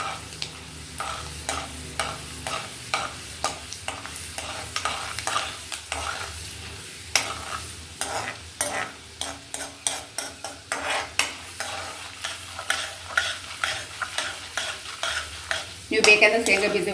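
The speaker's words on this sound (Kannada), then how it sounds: "ಇದು ಚೆನ್ನಾಗಿ ಫ್ರೈ ಮಾಡೋಣ." Cumin, urad dal and chana dal fry in oil in a pan, a steady sizzle broken by repeated scraping stirs of a spoon against the metal, with a louder burst of sizzling near the end.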